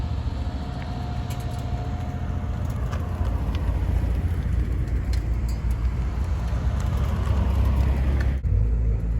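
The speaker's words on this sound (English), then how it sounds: "Miatas are rolling through." Mazda Miatas rolling past on the Streets of Willow race track, a continuous engine drone heard from a distance with steady road noise and no talking.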